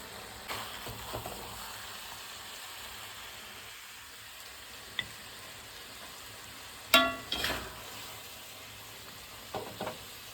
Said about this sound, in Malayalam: നന്നായിട്ട് ഇളക്കി കുറച്ചും കൂടി ചൂടുവെള്ളം കൂടി നമുക്ക് ചേർക്കാം